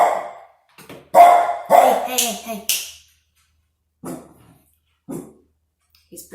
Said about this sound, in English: That's my doggy.